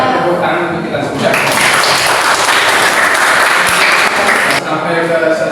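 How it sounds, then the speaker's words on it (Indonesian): A room of people applauds together at a classroom session, a dense burst of clapping rising after a moment of talk and fading out near the end, with voices heard before and after. "tepuk tangan untuk kita semua."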